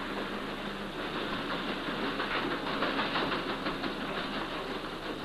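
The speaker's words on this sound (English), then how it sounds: "Powerful engines throb into life" Heavy ship and tug engines throb as a laden vessel is eased from its berth into the Manchester Ship Canal channel. The sound is a dense, continuous rumbling drone with a faint rhythmic pulse and no voices.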